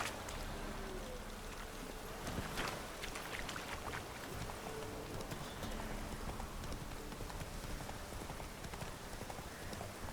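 Horse hooves clip-clop in The Witcher 3 game, a steady soft trotting rhythm under continuous outdoor ambience with rain-like hiss, moderately near and fairly quiet.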